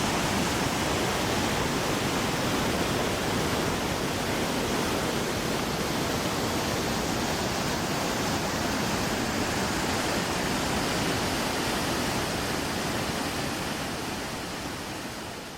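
Falls near Georgetown on the C&O Canal give a steady, broadband rush of water, continuous and fairly close, tapering slightly at the end, with no voices.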